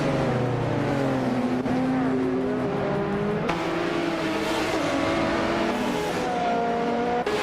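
Race cars, including a 1996 Osella PA20 BMW, roar around the track at Autopolis Oita in a video game race, with engines whining up and down through gears in a loud, continuous overlapping drone.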